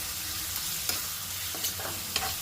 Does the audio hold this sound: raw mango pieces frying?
yes